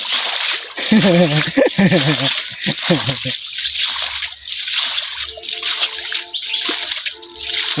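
Water splashes and sloshes repeatedly while fish are caught with a net in a village pond, with broadband bursts of splatter throughout and people talking loudly over it at close range.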